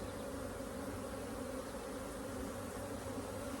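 Honey bees at a queenless hive buzz in a dense, continuous drone, an unbroken close swarm hum with no talk.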